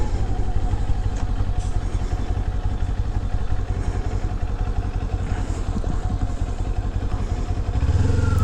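A small-displacement motorcycle engine while riding, a loud continuous close-up putter with rapid even firing pulses and wind rumble throughout.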